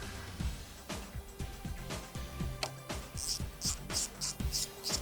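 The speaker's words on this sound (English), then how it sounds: "we can go ahead and remove the 8 10mm bolts that are along the top edge of the grill" Ten-millimetre bolts come out along the top edge of the grille on a 2017-2019 Ford F250 Super Duty, with a rapid series of close ratchet clicks, light metallic ticks and scraping, steady and repetitive and without talking.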